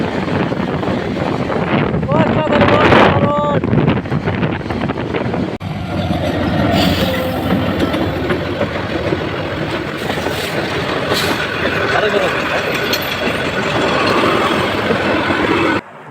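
A train rolls along near the Jamuna river in Tangail, heard from a moving motorbike. There is a continuous rumble with clickety-clack beats under strong wind noise.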